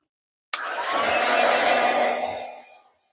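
A heat tool blowing hot air to heat set a craft project, starting abruptly and then whooshing steadily for about two seconds before it trails off, close and moderately loud.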